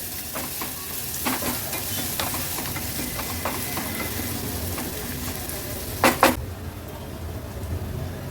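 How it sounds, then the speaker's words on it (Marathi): Finely chopped medium-sized onion fries in oil in a kadhai over a low flame, giving a steady close sizzle with scattered stirring scrapes and a couple of sharper clatters near the end. No one talks. "हा बारीक चिरून घेतलेला मीडियम साईजचा कांदा आहे तो ॲड करणार आहोत।"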